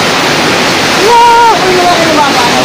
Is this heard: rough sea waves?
yes